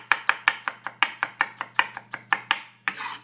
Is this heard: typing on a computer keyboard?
no